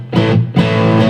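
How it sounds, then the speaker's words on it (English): Distorted electric guitar chords, two strummed hits ringing out loud and sustained with a gritty, saturated tone. "I'm playing with distortion"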